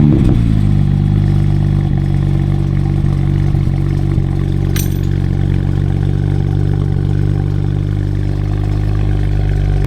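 A BMW N54 335i engine fitted with an M-Sport exhaust settles into a steady, deep idle right after starting up, loud and close, with a faint rattle.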